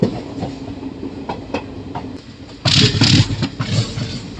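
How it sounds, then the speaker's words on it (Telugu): Train arriving at Palakollu station: rolling wheels with clickety-clack beats, heard close from on board, swelling into a louder burst of rumbling rail noise toward the end, with no talk. "మన ట్రైన్ అయితే పాలకొల్లు వచ్చేసిందండి"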